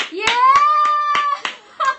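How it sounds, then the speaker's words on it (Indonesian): Several scattered, sparse hand claps from a few people during a live radio broadcast on Cosmopolitan FM, partly buried under a drawn-out, melodic vocal cry in the room. "Oke, tepuk tangan untuk Caca."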